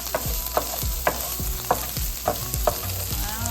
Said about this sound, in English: Stir that up for 30 seconds to a minute.